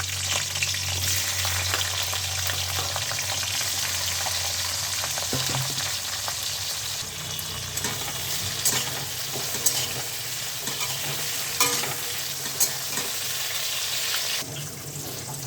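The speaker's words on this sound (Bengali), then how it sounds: "সিম আর আলুটা লাল করে ভাজা হয়ে গেছে" Flat beans and potatoes fry in a pan, a steady close sizzle running throughout with scattered stirring scrapes and clinks over it, and no voices.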